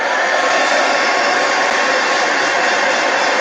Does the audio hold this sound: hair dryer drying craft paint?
yes